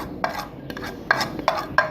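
Dal pakora batter with green coriander being mixed in a bowl, about five quick, close spoon strokes that scrape and clink at irregular intervals over a quiet background.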